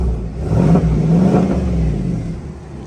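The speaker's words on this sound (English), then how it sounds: "I'm by myself, so I'll rev up a little bit here." A custom pickup truck's engine revving up close, one strong rising and falling surge with a throaty tone, no talking over it.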